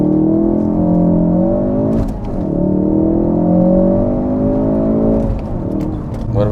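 A stock Ford Focus RS launches from a standstill with launch control and sprints 0 to 60, its engine roaring steadily with rising pitch through the gears, loud and close from inside the cabin, with brief dips at each shift.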